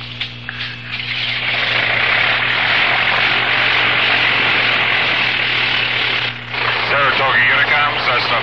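A Cessna light aircraft's propeller engine starts and settles into a loud, droning buzz close by, with a voice talking over it near the start and a brief dip in the engine noise partway through.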